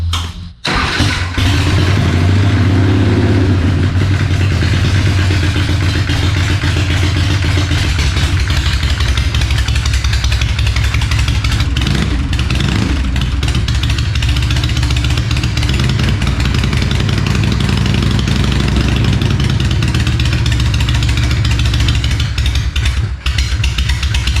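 A chopper motorcycle engine cranks and fires up after an oil change, its carburetor previously run dry, then settles into a loud, steady rumbling idle that continues close by for the whole stretch.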